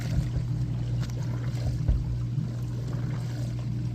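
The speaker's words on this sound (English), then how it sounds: "You kind of hear it sloshing around." Water sloshing inside a running Whirlpool dishwasher that is leaking with every cycle, a continuous muffled splashing over a steady low motor hum.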